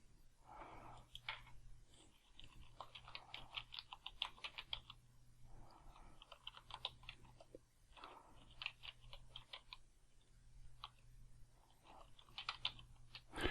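Typing on a computer keyboard while entering a person's first, middle and last name into cemetery records software, with bursts of quick, light key clicks separated by short pauses, close and fairly quiet over a faint steady hum.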